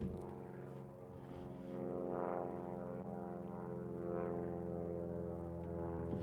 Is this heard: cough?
no